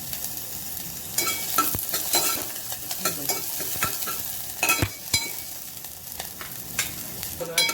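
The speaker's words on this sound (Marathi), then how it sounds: "आणि मग थोडं कढीपत्तो टाकायचा, तर ती फोडणी खमंग होते." Curry leaves and browned onion tempering in hot oil for a dried small fish curry, a soft steady sizzle broken by repeated scraping spoon strokes as the pan is stirred.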